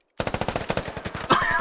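Rapid automatic gunfire in a video game shootout, a tight burst of about a dozen evenly spaced shots, loud and close, ending in a brief harsher blast.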